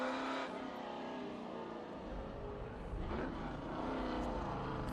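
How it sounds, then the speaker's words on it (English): A 7-litre big-block V8 Mercury Cougar muscle car at a historic sprint racing event gives a deep, continuous engine drone with rising revs toward the end, moderately distant and without speech. "And here's the big block. The Mercury Cougar. With the 7-litre V8"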